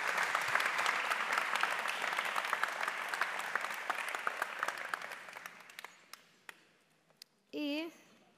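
An audience at a panel on artists' rights applauds the speakers with dense clapping that gradually thins to a few scattered claps and fades out, followed by a brief voice at the end.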